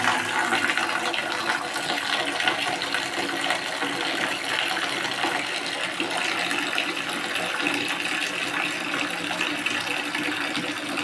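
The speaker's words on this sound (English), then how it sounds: "So I'll start by putting the water in the bucket." Water pours steadily into a bucket for mopping a bedroom, a continuous close gushing and splashing with no pauses, filling the whole stretch without any talking.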